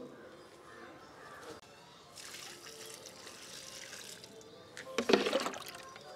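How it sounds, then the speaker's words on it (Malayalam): A mug of water is poured at the side of a potted jasmine plant, a soft trickle that swells into a brief louder splash near the end, with a voice talking faintly. "അതും ചെടിയുടെ ചെടിയുടെ സൈഡിൽ ഒഴിച്ചു കൊടുക്കുന്നതാണ് നല്ലത്. ഒരു മഗ് വെള്ളം മതിയാവും"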